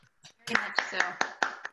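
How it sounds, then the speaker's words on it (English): A small audience claps for an artist at an online artists' talk, several sharp separate claps in an uneven rhythm while a voice speaks over them. "Renee, I think we should all give you a round of applause"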